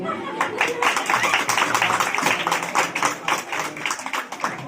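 A rally audience in Jharkhand claps steadily through the clip, a dense, sustained wash of many hands close by with voices faintly mixed in.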